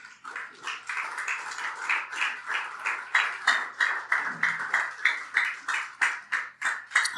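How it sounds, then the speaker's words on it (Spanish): A church congregation claps together during a Spanish-language worship service, praising the Lord. Many hands strike in a steady, rhythmic beat of sharp, loud pulses that grow more unified and emphatic over several seconds, with no voices over it. "Dale un fuerte aplauso al Señor."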